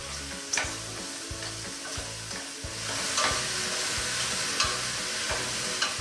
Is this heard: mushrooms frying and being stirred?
yes